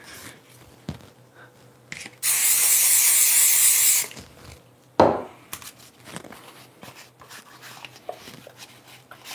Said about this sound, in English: It doesn't take very much to do this, like in terms of the spray paint.